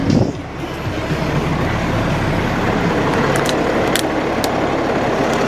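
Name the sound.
2005 Kenworth T300 truck engine idling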